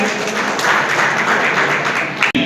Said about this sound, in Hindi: तालियों के जवाब के साथ स्वागत करेंगे